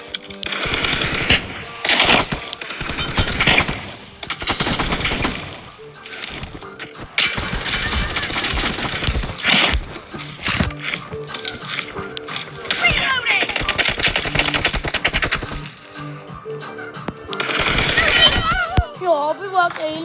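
Loud bursts of automatic gunfire and single shots in a shooting video game tournament match, coming in rapid clusters with short gaps, mixed with a player's excited talk.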